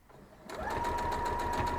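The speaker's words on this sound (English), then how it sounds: "And then I'm just gonna sew a little bit off and flip it around." Sewing machine stitching a quilt block, starting up after a brief quiet moment and then running steadily at speed, close by and alone.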